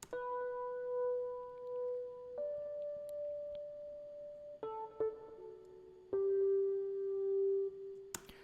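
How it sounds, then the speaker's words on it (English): Soft electric piano from a free Spitfire Audio Labs plugin plays long sustained solemn notes, changing pitch about every one to two seconds, clean and alone, with a brief bright burst at the very end. "So this one is like an electric piano."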